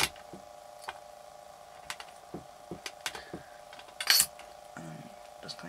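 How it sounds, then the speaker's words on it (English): Polymer clay cane chopped with a blade on a work surface, a series of soft close taps and cuts in an irregular rhythm, with a constant background hum throughout. "I'm just going to chop it up a little bit more"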